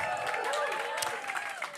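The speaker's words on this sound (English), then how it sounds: "More applause." Brief applause from a crowd at a live spoken-word show, steady clapping with cheering voices mixed in and people talking over it.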